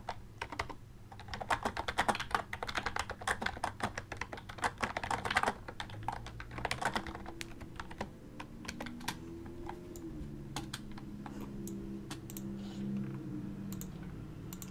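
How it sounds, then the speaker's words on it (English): Rapid bursts of typing on a computer keyboard, close and crisp, with dense clicking clusters for several seconds that thin out into sparse key taps over a soft background hum. "Here, wait, I'll type out something."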